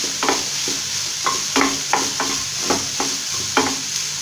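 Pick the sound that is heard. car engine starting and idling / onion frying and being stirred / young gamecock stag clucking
onion frying and being stirred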